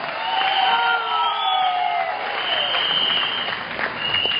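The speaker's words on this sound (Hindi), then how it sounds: "मैं चाहूंगा एक बार जोरदार तालियां हम दोनों के लिए" A large crowd at a success testimonies event applauds and cheers, a continuous roar of clapping with whoops and shouted voices, loud and sustained throughout.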